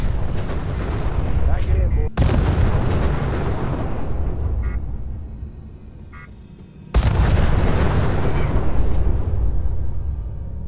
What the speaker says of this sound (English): Baba uses her elite hacking skills on this terminal to get the Protectron to take out these raiders